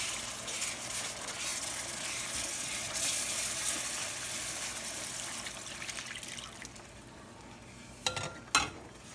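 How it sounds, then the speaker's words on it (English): Liquid is stirred into a roux in a pan, a soft sizzling, sloshing hiss that runs steadily and fades, followed by a couple of brief clinks near the end. "I'm going to start ladling this in really slow and stir as I go."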